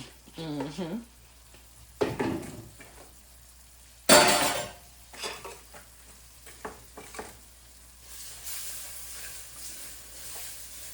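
A whole onion goes into simmering gravy in a pan, giving a sudden loud sizzle that fades into quieter frying and occasional clinks of utensil on pan, with brief bits of voice between.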